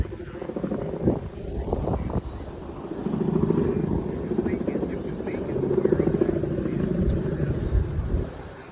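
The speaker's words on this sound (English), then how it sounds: "What is with all the helicopters?" Several helicopters' rhythmic rotor thumping drones steadily overhead, fairly loud, while a person talks underneath.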